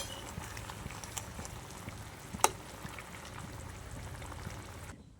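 Fish frying in hot oil in a pan, a steady faint crackling sizzle that runs throughout, with one brief sharper pop midway.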